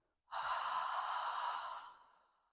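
A single long, breathy exhale during a Pilates exercise, close and steady for about a second and a half before fading out, alone with no talk.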